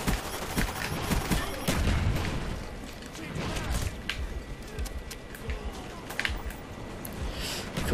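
Rapid bursts of gunfire in the video game Call of Duty: Black Ops, loud and continuous with booms and mechanical clatter, while players' voices come through underneath.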